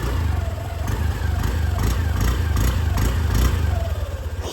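Honda Activa scooter engine running at a steady idle with a continuous low putter and light rattling, close and fairly loud, with no voices over it.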